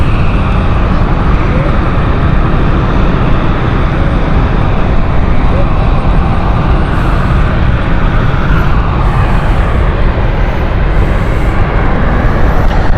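An airliner on the Glasgow flight at London City Airport gives a loud, continuous roar of jet engines. The broad rumble holds steady throughout, and a voice may talk faintly underneath.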